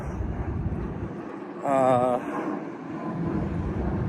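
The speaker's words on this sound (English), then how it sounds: "there's so many airplanes flying out" Airplanes fly overhead near an airport, a steady broad roar running through the whole stretch, with a brief warbling tone in the middle.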